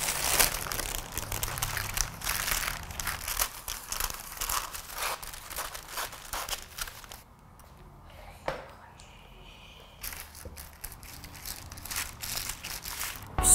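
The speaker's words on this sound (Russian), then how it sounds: "Сначала нужно постелить бумагу." Baking paper crinkles and rustles as it is laid on a tray for cottage cheese cookies, close bursts of crackling that pause briefly in the middle and then resume.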